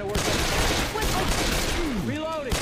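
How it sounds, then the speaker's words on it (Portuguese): Rapid bursts of Left 4 Dead gunfire crackle continuously, loud and dense, with sweeping synthetic tones and game effects layered over the shots. "Meti logo 3 tiros no BT."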